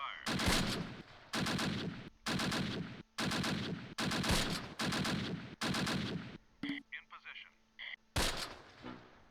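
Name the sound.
gunfire in video game Close Combat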